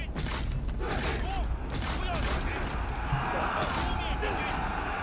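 Troops firing volleys in Total War: Three Kingdoms, a steady clatter of massed shots and battle noise with recurring sharp bursts, continuous and loud, with someone talking over it.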